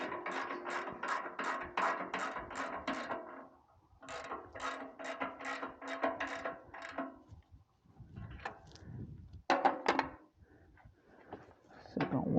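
A ratchet wrench tightens 22 mm banjo bolts with copper washers on a Massey Ferguson 231 tractor's power steering control valve, making quick rapid clicking bursts in two long runs, then scattered clanks and softer handling sounds.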